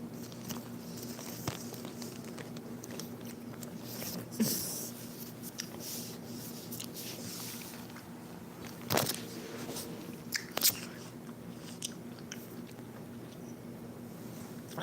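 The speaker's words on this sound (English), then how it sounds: "I've never heard such a crunchy grape." Crunchy grapes are bitten and chewed close to a microphone: faint, sporadic crisp crunches and soft chewing over a quiet room, with a few sharper bites standing out.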